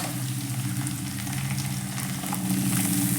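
Onions softened in a pan for paneer butter masala, with garlic joining them, give off a steady, continuous frying sizzle at close range, even and unbroken throughout with no voices.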